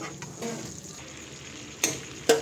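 Butter and a little oil sizzle steadily in a hot pan, a close, even hiss broken by two sharp clinks of a utensil against the pan near the end.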